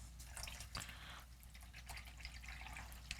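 Water is poured into a container for mixing a homemade caffenol film developer, a soft continuous trickle with faint drips over low background hum.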